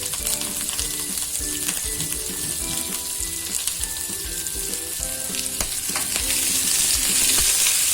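Garlic added to hot ghee with onion for a sweet corn sabzi gravy fries with a steady, dense sizzle and crackle, stirred with clinking strokes throughout, loud and close with no talking.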